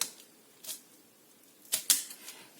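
Teflon-coated scissors snipping paper for a tag-making craft, a few quiet, crisp cuts in sparse, separate bursts, one near the start and a couple close together later, in an otherwise quiet room.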